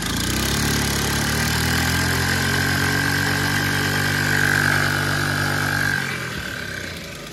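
A small motorcycle engine runs steadily and strongly right after cleaning, a loud continuous mid-pitched drone that swells slightly around the middle and then drops to a lower idle near the end, with no talking.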